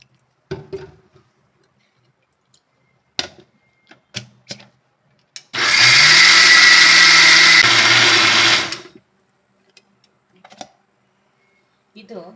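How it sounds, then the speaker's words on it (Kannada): A mixer grinder wet-grinding soaked rice with a little water for idli batter, a loud, steady motor whine lasting about three seconds, framed by clicks and handling knocks before and after. "ಈಗ ಹಾಗೆ ನಾನು ಅಕ್ಕಿ ರುಬ್ಕೊಳ್ತೀನಿ"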